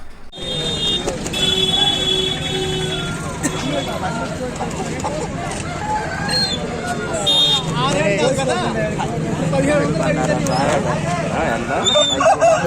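Chickens at a busy Sunday country-chicken market in Ongole cluck and crow sporadically amid a dense, steady crowd din, with people talking throughout and vehicles passing nearby.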